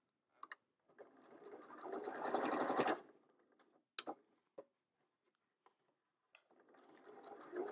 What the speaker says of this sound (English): adjust it as I sew.